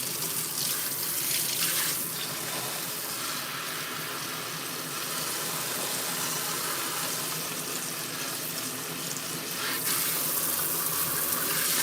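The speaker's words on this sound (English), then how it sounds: "I'm gonna let the water fill up in it" Tap water runs steadily into a rubber plant's pot in a sink, a loud continuous splashing gush that swells brighter near the start and again toward the end.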